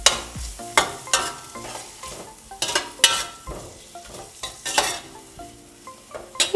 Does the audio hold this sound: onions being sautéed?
yes